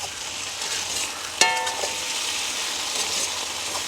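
Potatoes sautéing in a pan in a village kitchen, a steady close sizzle with a sharp clank of a utensil partway through.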